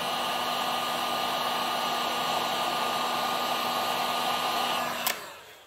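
A heat gun blows hot air onto the bearing area of a Farmertec 288 chainsaw engine case, a steady close-up fan roar with a faint whine, ending with a click as it shuts off and spins down.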